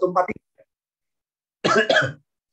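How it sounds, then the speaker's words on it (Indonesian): A short burst of sharp coughing, then a pause of near silence, followed by two more harsh coughs close to the microphone. "Maaf ya, ini saya batuk."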